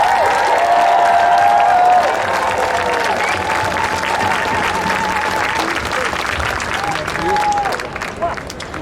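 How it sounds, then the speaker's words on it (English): A large outdoor rally crowd opposing Bill 5 applauds and cheers for Saul Mamakwa, loud and continuous, with whoops, tonal squeals and voices mixed in, fading slightly near the end. "All right, let's give another big round of applause for Saul Mamakwa."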